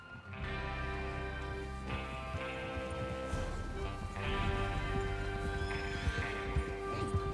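Horses whinny and hooves clip-clop in Red Dead Redemption 2 over a steady musical and ambient bed, with several neighs rising above the mix.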